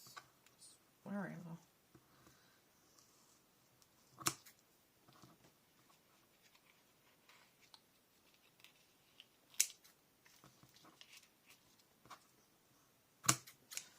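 Scissors snipping ribbon into lengths of different heights for a craft card, several sharp isolated cuts spaced seconds apart, quiet and close with faint handling between.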